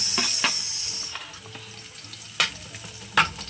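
Chopped onion sizzles in a pan, a steady bright hiss with a few sharper stirring scrapes and crackles standing out near the end.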